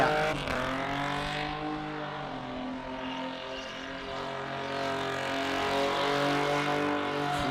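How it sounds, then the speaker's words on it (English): A sports compact drag race car skids its tyres at a dragway in Adelaide, giving a loud, continuous engine roar with layered harmonics. Under it runs a sustained tyre squeal that swells and sags over several seconds. "Skidding them out, getting himself backed into a corner"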